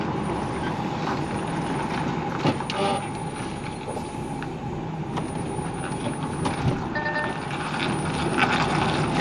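Lorry being manoeuvred to turn around, its diesel engine idling steadily with repeated reversing beeps and a hiss of air brakes, loud and close from inside the cab.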